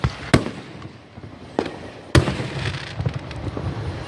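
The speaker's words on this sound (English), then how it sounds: "people over on the I guess the parking lot are trying to shoot out their own fireworks" Fourth of July fireworks set off from a nearby parking lot burst in sharp, separate bangs, three or four distinct reports with crackling in between, fairly close and loud against a quieter outdoor background.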